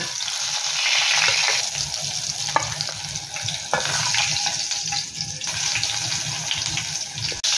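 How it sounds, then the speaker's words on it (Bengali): Pointed gourd pieces fry in a pan with a loud, even sizzle, broken by a few sharp clinks and stirring sounds. "এইভাবেই আমি সমস্ত পটলগুলোকে ভালো করে ভেজে নেব"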